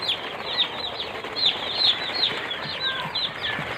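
Broiler chicks on a poultry farm at first-day brooding keep up a dense, continuous chorus of high peeping chirps, close and steady with no talk.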